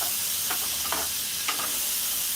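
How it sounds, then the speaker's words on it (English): Vegetables, including mushrooms and broccoli, saute with garlic in two tablespoons of butter in a pan, giving a steady, close sizzling hiss broken by a few soft stirring scrapes. "2 tablespoons of butter. And let the veggies do a little sauteing with the garlic."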